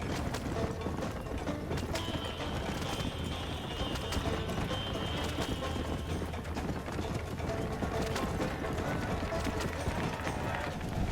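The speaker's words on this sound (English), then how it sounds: "this horse got a lot of stamina" Galloping horse hooves in a Western open-world game, a steady rapid drumming beat running throughout under ambient rattling and game noise, with a thin whistling tone in the middle.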